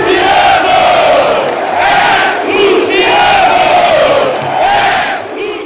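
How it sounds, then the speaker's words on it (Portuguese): Stadium crowd at Morumbi, São Paulo, chanting a player's name in the rain during a football match: a loud, massed, rhythmic chant repeating in rising and falling waves, several times in a row. "fazendo o Morumbi gritar no meio da chuva: Luciano!"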